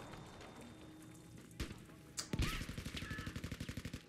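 Battlefield 5 Conquest gunfire: a couple of sharp shots followed by a rapid, evenly spaced automatic burst, fairly close and punchy over a rumbling battlefield background.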